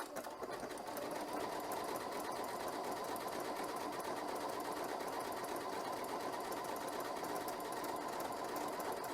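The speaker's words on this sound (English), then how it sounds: "So let's stitch out a stretch buttonhole." A Continental M7 sewing machine stitches out a stretch buttonhole with a steady, rapid mechanical rattle, close and continuous from start to finish.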